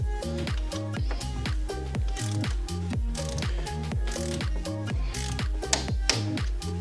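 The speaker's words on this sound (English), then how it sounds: "grab our torque wrench and get it nice and secure to that torque setting" Rapid, regular clicking of a torque wrench ratcheting as it tightens the seat post clamp on a Dolan Atreus e-bike, close and crisp with a steady back-and-forth rhythm and no talk.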